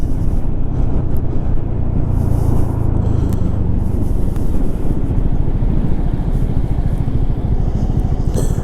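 Continuous engine drone of a Honda Forza 250cc fuel-injected motor scooter riding through city traffic, with steady road rumble and wind noise and no pauses.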